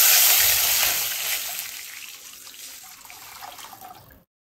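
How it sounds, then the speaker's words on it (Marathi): Water is poured into an iron kadhai holding garlic roasted in ghee, a loud rushing pour that gradually thins and then stops abruptly. "आता ह्याच्यामध्ये मी 3 भांडी किंवा 3 ग्लास पाणी मिक्स करते."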